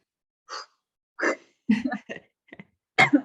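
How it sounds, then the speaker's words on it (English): Several short, breathy coughs and throat noises come in separate bursts close to the mic, with silence between them. "I'm going to cough again"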